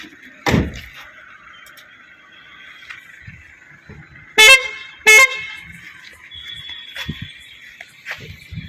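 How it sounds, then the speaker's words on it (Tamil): Two short, loud car horn honks from a 2019 Maruti Eeco sound in quick succession, with a door thud beforehand and quiet ambient noise around them. "ஹார்ன்லாம் ஒர்க்கிங் தான்."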